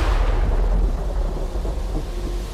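Deep rolling thunder rumbles through a stormy night, a loud low roar that swells at first and then slowly fades, with no other sounds over it.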